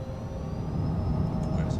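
Jet engines of a Cessna Citation CJ3 at takeoff power in a flight simulator give a steady, close, continuous low rumble with a faint high whine on top.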